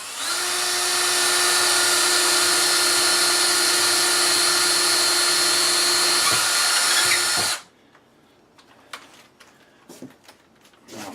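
A small bit in a power drill whines loudly and steadily for several seconds while boring a pilot hole in kitchen cabinet trim, then stops abruptly, leaving faint handling clicks.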